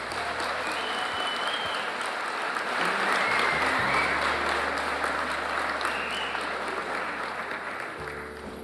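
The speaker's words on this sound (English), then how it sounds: "Let's give a round of applause for all of our young people." Audience applause fills a graduation ceremony hall for the young people of the 2018 graduating class, a steady, dense wash of many hands clapping that swells midway and carries on without a break, with no voices over it.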